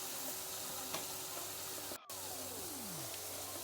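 Prawns frying in a pan, an even, soft hiss of sizzling oil with a brief dropout midway and a faint tonal sweep falling in the background.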